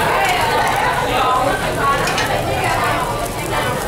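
Thin-sliced beef sizzles on a Korean BBQ grill at a restaurant in Saigon, a loud, steady crackling hiss close by with faint clinks of utensils.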